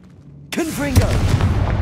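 Confringo blasting spell explodes in Hogwarts Legacy inside a catacomb, a sharp burst followed by a sustained loud rumble, with a character's voice sweeping over the start of the blast.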